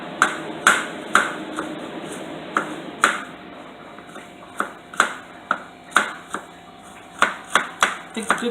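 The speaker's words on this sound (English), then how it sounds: "I'm going to chop some garlic cloves." A knife chops garlic cloves on a cutting board, giving sharp, irregular strikes that ring slightly, close and clear over a quiet kitchen hum.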